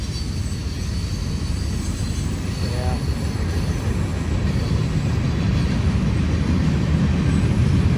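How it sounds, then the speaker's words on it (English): A train rolls past a riverside campsite at Trail of Tears State Park on the Mississippi, a steady loud rumble filling the whole stretch with faint metal-on-metal wheel squeal riding above it. "The squealing of the metal on metal is kind of like"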